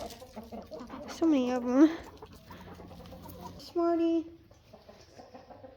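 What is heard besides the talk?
chickens clucking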